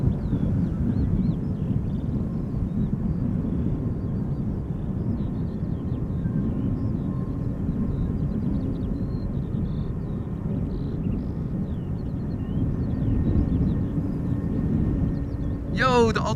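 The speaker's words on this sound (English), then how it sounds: "Arriving from Stuttgart. Embraer 175." An Embraer 175 airliner arriving at Schiphol Airport from Stuttgart, heard as a steady, broad low engine roar with faint tonal whine, continuous and fairly even throughout, mixed with wind buffeting on the microphone and a brief sharp noise at the very end.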